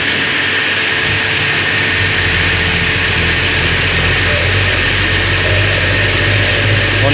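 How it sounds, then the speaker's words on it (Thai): Old water pump switched on, a sudden start followed by a steady, loud mechanical hum and rattle that runs continuously without pause. "เปิดน้ำเปิดปั๊มน้ำเป็นบ่ ฟังเสียงน้ำกันเป็นบ่"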